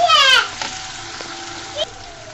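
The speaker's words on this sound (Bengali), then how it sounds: "আদা রসুন বাটা, দিয়ে সুন্দর মতো নেড়ে চেড়ে নিচ্ছি" Ginger-garlic paste frying and being stirred in a pan while cooking a sweet pumpkin and egg dish: a steady sizzle with a few soft scrapes of stirring. A brief voice is heard at the very start.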